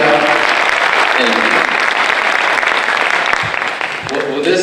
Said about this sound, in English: Can we give our embassies for the evening a round of applause?